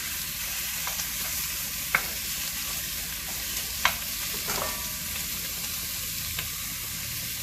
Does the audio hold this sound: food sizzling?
yes